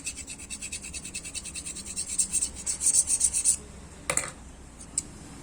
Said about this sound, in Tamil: டெம்பரரியாக நீங்கள் சிசரை ஷார்ப் பண்ணுறதுக்கு ஈஸியான ஒரு மெத்தடு